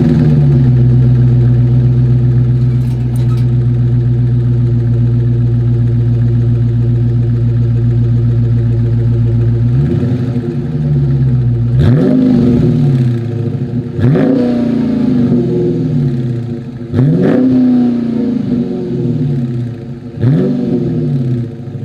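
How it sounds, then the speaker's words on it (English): A 2021 Dodge Charger Scat Pack with dual chrome-tipped exhausts idles with a deep, loud rumble, then is revved hard about five times, each sharp surge rising and falling back to idle, close and alone. "Dual exhaust outlets with chrome tips. So without further ado, here is that exhaust clip."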